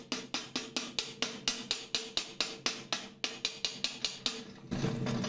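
A hammer raps steadily on a welded nut, chipping off cooled welding slag in about sixteen evenly spaced, ringing metallic knocks, ending in a brief rougher scraping noise.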